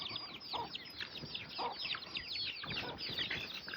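Several chickens cluck and chatter nearby in a steady, busy stream, with short sharp calls overlapping throughout.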